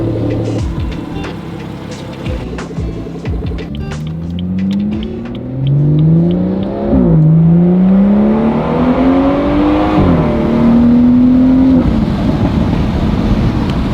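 A lowered BMW 340i on new wheels and lowering springs driving down a street. The engine note rises and falls through several gear changes in a steady, close, loud interior drone.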